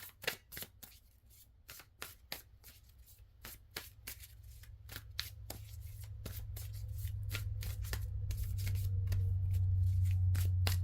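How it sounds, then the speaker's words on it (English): Tarot cards shuffled by hand before a card is pulled: a run of crisp, rapid riffles and slaps, close and alone, while a low steady hum gradually swells underneath toward the end. "Let's pull another card here."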